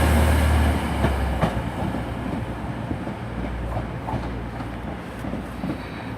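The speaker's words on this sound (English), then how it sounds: "which is on a TransPennine Express service to York from Manchester Airport." A TransPennine Express train pulls out of Huddersfield station on a service from Manchester Airport to York, giving a steady low rumble with faint rail clatter, moderately close and alone without talk.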